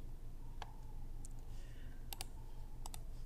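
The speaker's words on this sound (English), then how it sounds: "We can type into SlimStat again if we want to." Sparse clicks of typing on a computer keyboard, a few scattered keystrokes over a steady low hum, fairly quiet and close, with no talking.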